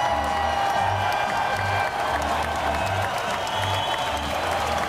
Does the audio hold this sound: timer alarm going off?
no